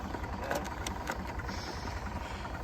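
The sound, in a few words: tractor engine running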